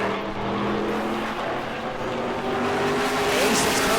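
E-Mod race cars roar around the New Smyrna track during a race, engines droning loud and continuous as the pack rounds the back straightaway, with a faint rising whine near the end.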